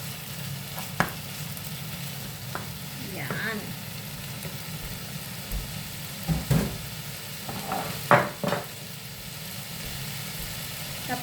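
Ground pork mince going into a pan with caramelized tomatoes, a soft steady sizzle with a few louder stirring clatters, quiet and close, under light background noise.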